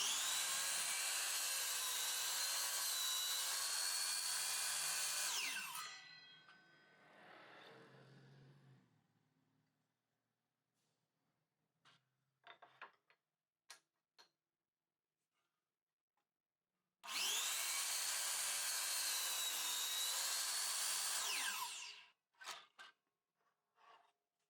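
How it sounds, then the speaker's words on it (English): A Dewalt DWS779 miter saw cuts a 45-degree bevel in wood: a loud, high motor whine runs for several seconds and then spins down, followed by scattered knocks and clicks, and later a second identical run and wind-down. "we're going to cut the 45-degree bevel"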